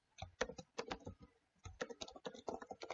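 Typing on a computer keyboard while setting up a Ruby on Rails project, quiet close keystrokes in quick irregular bursts with a short pause midway, with no talking.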